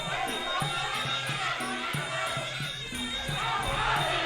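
A packed crowd of supporters roars steadily around a Muay Thai boxing ring, a dense continuous din with ringside music and a commentator talking over it throughout.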